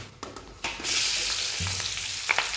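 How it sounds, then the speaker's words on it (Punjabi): Chillies hit hot oil in a kadai: a brief clatter gives way to a sudden loud sizzle that holds as a steady, close crackle, with a few utensil taps. "ਆਪਾਂ ਆ ਕੜਾਈ ਧਰ ਲਈ ਹੈ ਧਰ ਕੇ ਆਪਾਂ ਪਾਉਣੇ ਮਿਰਚਾਂ ਹੁਣ ਵਿੱਚ"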